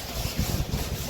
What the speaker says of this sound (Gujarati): પવન આવે છે બહુ